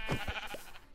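A sheep in the video game Minecraft bleats once, a short wavering call close by with nothing else audible.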